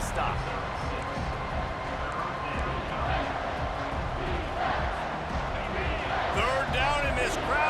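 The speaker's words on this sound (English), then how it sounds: "this crowd is tearing the lid off this place" A stadium crowd in the College Football 25 video game roars in a steady, loud wash of cheering throughout, with a commentator talking over it.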